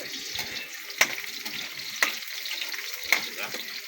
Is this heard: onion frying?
yes